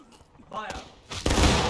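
Musket volley fire in the War of Rights video game, a loud burst of massed shots crashing in together near the end, just after a short shouted command from an officer.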